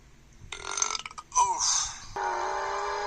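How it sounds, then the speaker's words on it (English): A single long, loud burp rolls out up close and carries steadily to the end, after a few shorter gulping and grunting sounds at the start. No one speaks. "I could burp you one last time"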